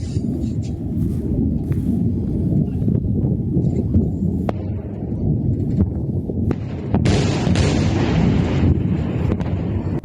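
Explosions from an Iranian missile attack on Haifa city: a sustained rumbling roar with scattered sharp cracks and bangs, and a louder burst late on, heard from a distance.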